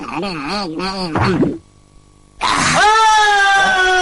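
A cartoon character lets out a loud, drawn-out wailing scream that rises in pitch and holds steady to the end, coming after a brief quiet gap that follows strained, warbling vocal sounds.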